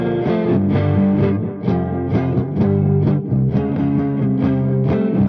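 An electric guitar fitted with DiMarzio humbuckers, an Air Zone in the neck and a Super Distortion in the bridge, plays a loud, heavily distorted run of chords and notes with no pauses, alone and without speech.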